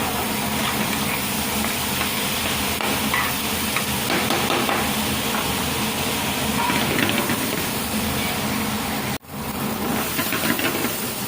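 Onions sizzling and browning in a pan for seeni sambol, a steady, close frying hiss that runs throughout with faint stirring scrapes and one brief dropout near the end.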